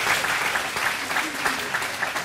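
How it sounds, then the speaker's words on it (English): Dense, sustained applause from a seated audience at a talk, many hands clapping steadily at close range with no break for the whole stretch. "give him a round of applause"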